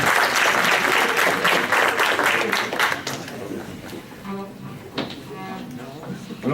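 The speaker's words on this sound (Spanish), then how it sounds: "un aplauso para todos ustedes" Audience applause for students at a student forum on Mesoamerican cultures, steady dense clapping for about three seconds that thins out into scattered claps, with voices and a few whoops mixed in.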